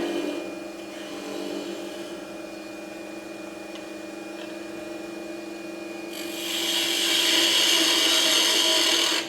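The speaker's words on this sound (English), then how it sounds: "I switched to my spindle gouge because I'm getting closer to the shape that I want to be at." Wood turning on a lathe with a spindle gouge gives a steady hum with a faint scraping hiss that grows into a louder, brighter cutting rasp in the final few seconds, close and without talk.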